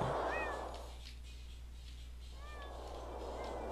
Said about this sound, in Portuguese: tem infestado de gatos esse lugar